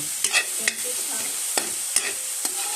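An egg frying in a home kitchen pan, with a steady hiss of oil under a few sharp clicks and scrapes of a utensil against the pan. Close and fairly quiet, with no talk.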